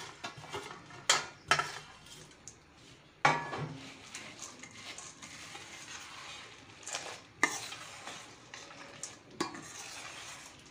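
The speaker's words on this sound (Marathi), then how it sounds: "गरम पाकामध्ये आता आपण ही बुंदी टाकून देऊया आणि छान मिक्स करून घेऊया." Boondi being stirred into hot jaggery syrup, intermittent scrapes and clinks of a spoon against a pan between quieter stretches of soft bubbling, close and fairly faint.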